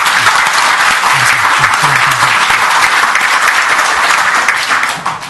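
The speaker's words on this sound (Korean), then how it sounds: "우리 구리시 발전을 위해서 전부 박수 한번 크게 치고 시작하세요" Loud, dense applause from a seated audience at a Guri city officials' meeting in an arts centre hall, a steady wash of many hands filling the whole stretch before tapering slightly at the end, with faint voices mixed in.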